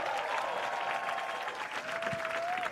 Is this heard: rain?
no